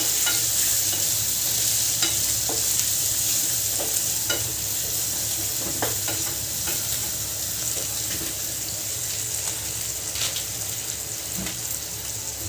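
Green chillies and curry leaves sauté in a pan, a loud continuous close sizzle with scattered stirring scrapes and clinks throughout, no voices.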